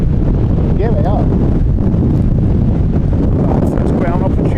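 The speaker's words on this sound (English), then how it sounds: "All of a sudden, ridiculously windy." Strong storm wind buffets the microphone at London City Airport during Storm Amy, a loud, constant roaring rush with a voice talking briefly over it.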